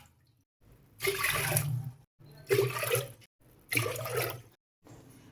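Water pours into a pot of rice in three separate bursts of about a second each, splashing steadily with brief pauses between them.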